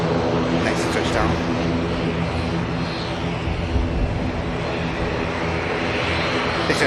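A passenger airliner touches down at Manchester Airport, arriving from Alicante: a steady, broad engine roar that holds loud and even throughout, with a voice talking over it.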